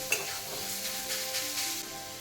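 Fish frying in hot oil beside a whole-spice tempering, with a cauliflower boiling nearby; a steady close sizzle with a sharp crackle at the start and gentle stirring scrapes.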